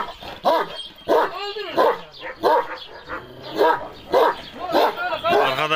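A dog barks repeatedly and loudly at close range, sharp bursts coming in an uneven rhythm with brief pauses between them.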